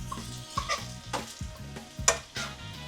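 Mushrooms fry in a pan with a soft, fairly quiet sizzle. Intermittent stirring knocks and scrapes break in every half second or so, with no talk.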